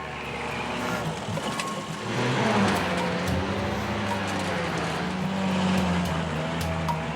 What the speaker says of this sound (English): The cable slowly winds around, pulling the truck and its cargo.